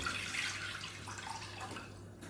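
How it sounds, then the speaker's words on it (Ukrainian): Half a litre of plain clean water pouring into a pot with salt for pickling brine, a steady soft trickle and splashing close by with no talk. "Ну і додаємо пів літри води."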